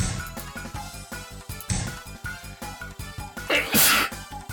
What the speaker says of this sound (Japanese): すいません、くしゃみ出ちゃいました。